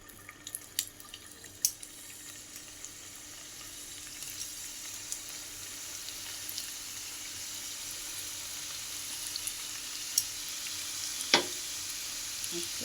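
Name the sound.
oil sizzling in a hot pan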